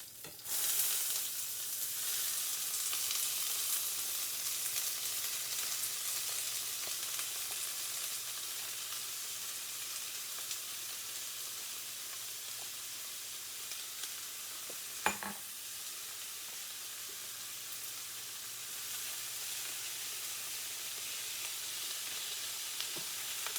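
Bell peppers, onions, green onions and jalapeños sauté in a pan for chicken spaghetti, giving a steady broadband sizzle throughout with a single sharp clink near the middle and no talking.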